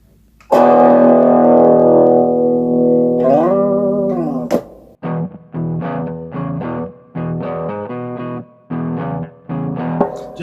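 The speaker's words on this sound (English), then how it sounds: "just that overdriven sound with a bit of reverb" Overdriven electric guitar with reverb played through an Ammoon PockAmp headphone amp: a long sustained chord with a bend, then a run of short, rhythmic stabbed chords with brief gaps, loud and close, no talking.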